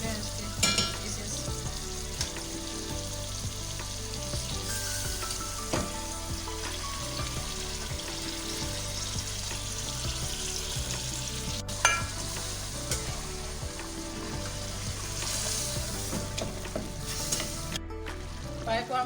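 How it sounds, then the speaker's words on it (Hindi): Beef paya trotters frying and being stirred in a pot, a loud continuous sizzle with repeated scraping and clinking stirs throughout. "पाए को हमने अच्छे से भून लिया है।"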